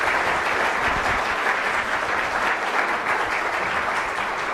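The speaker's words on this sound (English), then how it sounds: "Give her a great hand." An audience at an astronomy book talk applauds warmly, a dense sustained clapping that holds steady for several seconds with no voices over it.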